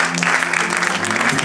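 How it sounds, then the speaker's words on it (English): A church congregation claps their hands together in dense, continuous applause during a worship service, with faint voices mixed in. "Clap your hands to the Lord today."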